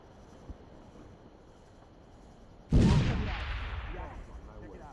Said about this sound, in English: Try and throw a little grenade up there.